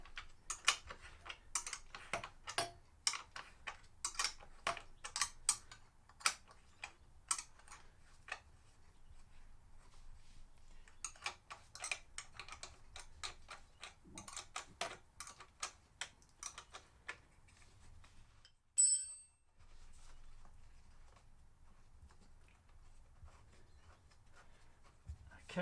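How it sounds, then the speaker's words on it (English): A bolt being removed from a KTM Duke motorcycle exhaust: quiet, rapid ratchet-like clicking in irregular bursts over a faint background, then a short metallic clunk near the end. "Just gonna remove this bolt."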